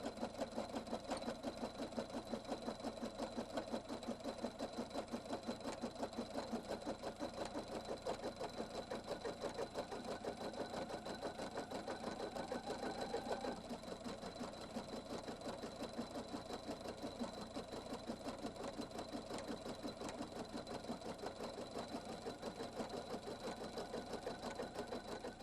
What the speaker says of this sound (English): Designer 2 finishes the cutwork design with the satin stitch around the cutwork